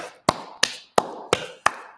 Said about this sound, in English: Round of applause for Mr. Hill